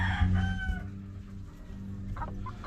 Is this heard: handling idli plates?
no